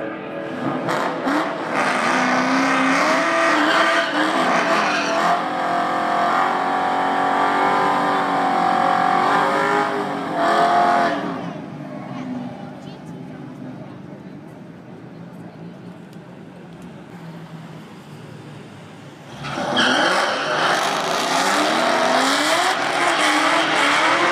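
A 2001 Mustang Bullitt races at Las Vegas, the V8 engine roaring loudly as it accelerates, then easing into a quieter lull before roaring again near the end.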